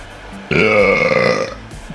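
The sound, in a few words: heat gun making a weird sound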